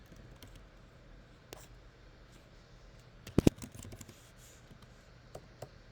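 Soft, scattered taps on a computer keyboard sound faint and close, with one brief louder clatter in the middle and quiet room noise between keystrokes.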